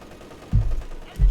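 A 6-pounder anti-tank gun fires in a Company of Heroes 2 match, two deep booming shots about half a second apart, loud and close, with battle noise beneath.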